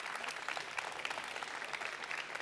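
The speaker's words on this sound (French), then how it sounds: "Merci beaucoup, on peut les applaudir." An audience at a laureate unveiling applauds in a dense, even burst of clapping, moderately distant and sustained for a couple of seconds without voices.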